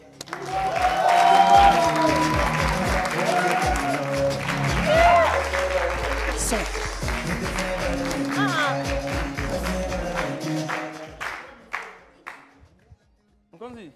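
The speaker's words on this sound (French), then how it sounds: "Applaudissez un peu pour vous-même d'abord." Studio audience applause on a TV entertainment show, a loud, sustained wash of clapping that fades in its last few seconds to a few scattered claps, with voices and background sounds mixed in.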